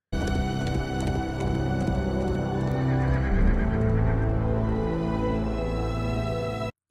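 A horse neighs and whinnies loudly and repeatedly in a Rings of Power scene, with clip-clop of hooves and stirring background music throughout.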